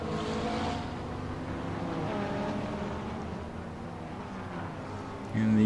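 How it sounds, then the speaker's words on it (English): Aston Martin race car engine in a racing video game, a sustained droning engine note with shifting pitch, moderately loud, ending in a sudden louder burst. "you can literally hear an Aston Martin in the background"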